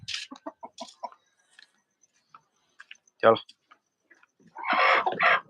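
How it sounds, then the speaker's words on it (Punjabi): Chickens cluck in short bursts near the listener, a louder squawk midway, then a rooster's call rises at the end; a voice speaks briefly. "ਇਧਰ ਆਪਣੇ ਆ ਗਿਆ ਕੁੱਕੜ"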